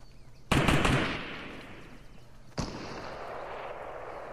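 Gunfire in the video game Fortnite bursts out as a loud rapid volley of shots, then a single sharp report follows two seconds later, with a lingering wash of noise in between.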